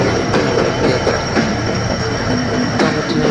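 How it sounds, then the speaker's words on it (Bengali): A Dhaka-bound train pulls into Natore station with loud, close rumbling, rhythmic wheel clatter over the rails and brief metallic squeals, continuous throughout. "ঢাকার উদ্দেশ্যে একটা ট্রেন ঢাকা অভিমুখী ট্রেন যে আসছিল"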